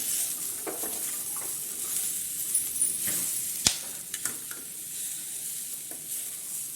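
Chickpeas are stirred in a hot pan, a soft continuous sizzle under repeated light scrapes and a few sharp clinks of the spoon against metal, close and fairly quiet.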